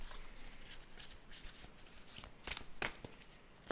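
Tarot cards being handled and shuffled on a table, a close, quiet run of papery riffling and slides with a few sharper flicks near the end as cards are drawn.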